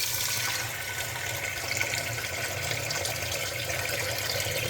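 Tap water runs steadily into a kitchen sink as things are washed under it, a continuous broadband splashing rush that stays even and close throughout with no talk over it.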